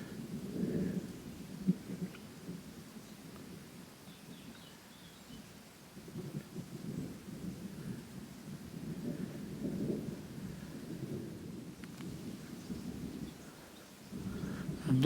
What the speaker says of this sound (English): I think the storm is definitely coming this way though.